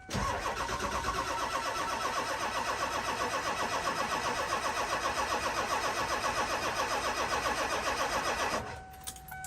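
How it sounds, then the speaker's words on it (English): Ford 7.3 Powerstroke diesel van engine, a high-mileage unit with some power loss, cranks steadily and fires, its loud rhythmic churning running for several seconds before cutting off abruptly near the end. "Let's give her a go, one click."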